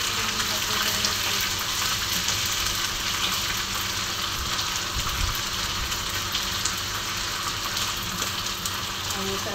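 Sardines with egg frying in a pan, a steady dense sizzle and splatter running throughout at close range, with no talking.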